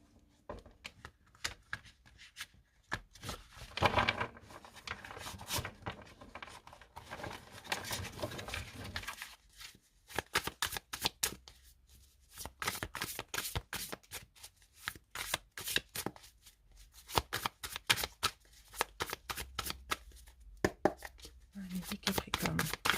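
Tarot cards are shuffled and cut in rapid, crisp bursts of riffling and slapping, close to the microphone, broken by brief pauses while someone talks between them.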